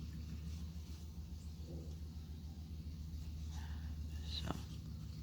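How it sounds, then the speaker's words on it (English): A car engine rumbles past at low volume, a steady distant drone with a brief sharper clatter near the end. "I hear a car going by."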